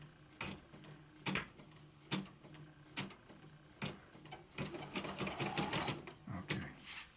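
A Brother embroidery machine stitches a design up close, its needle mechanism producing a run of loud rhythmic clacks and whirring bursts that speed into a busier, continuous stretch toward the end.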